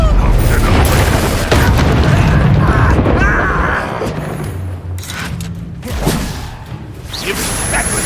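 Confringo fire-blast spells in Hogwarts Legacy burst amid dense game combat, with swooshing casts and heavy booming thuds layered over continuous loud action.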